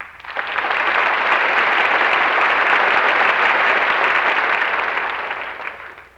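Loud, sustained studio audience applause at a live television variety broadcast, swelling in quickly and holding a dense, even roar for several seconds before tapering off.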